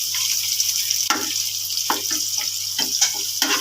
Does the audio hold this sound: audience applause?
no